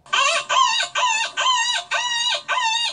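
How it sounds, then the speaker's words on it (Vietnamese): A hen clucks in six evenly spaced, loud, close squawking calls, each about half a second long, with no other sounds around them. "Con gà."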